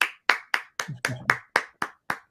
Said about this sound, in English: let's give Rashawn a round of applause as we bring him to the stage